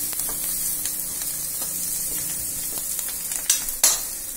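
Lemon rice with coriander being stirred in a frying pan: a steady sizzle with soft scraping strokes, close and fairly loud, and a couple of sharper clinks near the end.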